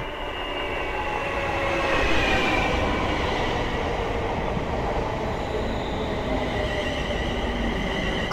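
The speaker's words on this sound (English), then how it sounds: "Actually, this isn't a Thameslink train, it's a Luton Airport Express." A Luton Airport Express train runs along the line with a steady rumbling roar and a faint rise in intensity, heard from on board with no talking.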